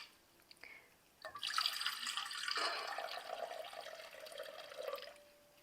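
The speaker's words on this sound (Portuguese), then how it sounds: "Eu vou colocar a água primeiro aqui" Filtered water pours into a mixing bowl for gluten-free vegan bread, a steady splashing stream of a few seconds that grows fuller and brighter, then tapers off to a faint trickle near the end.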